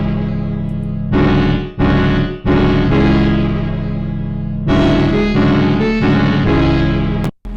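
Dancehall-style keyboard progression of two sustained, gritty chords with a melody on top, loud and close, with short gaps between chord hits and a brief drop near the end; no voices.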